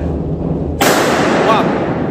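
A powder-actuated fixing tool fires into a stadium ceiling during ceiling installation work, giving one sharp, loud gunshot-like bang followed by a ringing decay over steady background noise.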